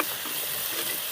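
Tomatoes sautéing in ghee in a pan, a steady soft sizzle with light stirring throughout, close by and with no talking.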